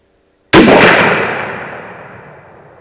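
A single loud, close 6.8 Creedmoor rifle shot, fired at a swamp hog at night in overgrown vegetation, breaks the silence and then trails off in a long fading rumble of echo.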